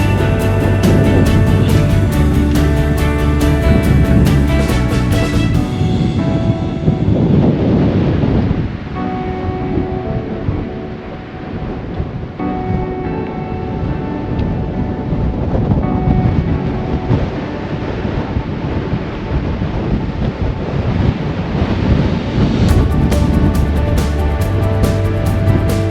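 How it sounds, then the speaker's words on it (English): Strong storm winds buffet a GoPro microphone on a Hudson Valley ridge hike, a loud, continuous roaring rumble that dips briefly and then surges again, with no talk. "I don't know if this wind is going to translate to film"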